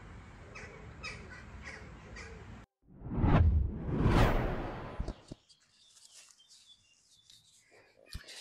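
Crows caw near a fishing spot on the bank of the Kákafok oxbow lake. Loud whooshing rushes of wind or handling noise cover the middle, with sparse small sounds afterward.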